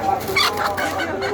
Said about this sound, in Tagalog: Dito mas maraming tindang malalaking manok.